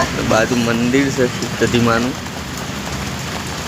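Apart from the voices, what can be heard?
heavy rain falling outside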